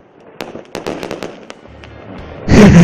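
Fireworks burst at a festive salute in an animated scene: a quick series of sharp crackling pops, then a louder, rumbling boom swelling near the end, with no talk over it.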